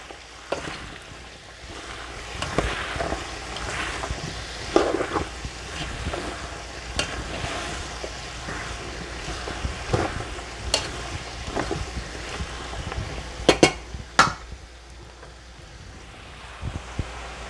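Salvadoran chow mein sizzles and fries in a pot as it is stirred, a steady crackling hiss broken by scraping clinks of the utensil against the pot.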